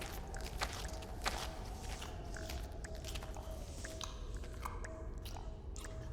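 Wet, squishy chewing and biting sounds from something eating in underground catacombs continue steadily with soft dripping, quiet and close, with no voices.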